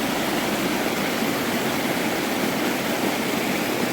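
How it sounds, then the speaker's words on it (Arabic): Water flowing steadily in a natural stream or small waterfall in Morocco, a continuous broadband rush that stays even and close throughout with no voices. "سمعوا الماء كي داير عرفتي الماء واعر"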